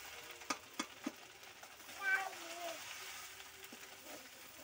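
Oil frying in a home kitchen pan while breakfast is cooked, a soft steady sizzle with a few stirring clatters and knocks, fairly faint and close, with a brief voice in the background.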